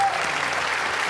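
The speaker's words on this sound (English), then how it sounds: "Let's give them a great round of applause." Brief burst of steady applause from a church service audience, an even, continuous patter of many hands at moderate level with no speech over it.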